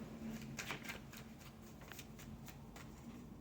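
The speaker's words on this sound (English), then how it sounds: "I'm going to shuffle for 8 seconds" Cards are shuffled quietly and repeatedly for about eight seconds, a rapid riffle of soft flicks and snaps in a steady rhythm, close and faint.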